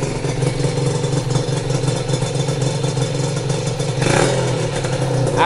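A restored Honda NSR two-stroke motorcycle engine runs loud and close at a steady, buzzing idle, then briefly revs up near the end.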